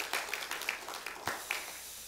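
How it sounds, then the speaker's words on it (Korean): A church congregation gives a sparse round of applause, with scattered individual claps and a few sharper claps over a quiet, reverberant room. "여러분 박수 한번."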